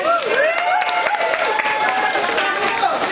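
An audience applauds during a graphology session, clapping mixed with crowd noise and overlapping speech and laughter-like voices, fairly loud and close throughout.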